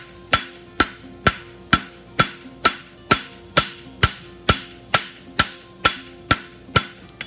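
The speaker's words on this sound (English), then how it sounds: "So then I just kind of hit here with the edge of my hammer." A hammer strikes hot steel on an anvil while forging a heel caulk on a horseshoe: about fifteen sharp, ringing blows in an even, steady rhythm, loud and close, with no talking.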